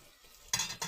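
Vegetables frying in a pan, soon to be joined by mushrooms: a brief scrape of a utensil stirring, then a burst of sizzling that briefly eases and flares again, fairly close with no talk.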